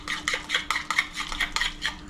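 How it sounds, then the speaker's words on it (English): A utensil stirs a mixture dressed with fresh lemon juice in a bowl. About nine quick rhythmic scraping strokes sound close and clear, with no voices. "Give that a mix up."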